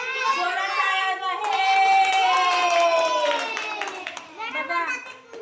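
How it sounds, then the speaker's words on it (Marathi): Children in a classroom clap loudly, the patter of hands mixed with excited high-pitched voices and cheering that swell, then trail off near the end. "जोरात टाळ्या वाजवा."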